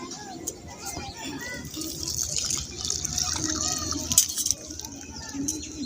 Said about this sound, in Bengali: জলটা দিয়ে দেবো সুজির উপরে।